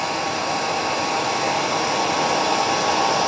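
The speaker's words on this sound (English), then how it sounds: "I'm just going to blow it with a hairdryer." A hairdryer on a warm setting blows steadily and loudly across a deer hair Killer Shrimp Muddler fly at the tying vise, a continuous even whoosh with no talking.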